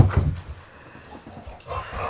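A pet dog close by, carrying a wet ball, makes soft snuffling and panting noises with a brief whimper and a short yip, fairly near and moderately loud, with no talking.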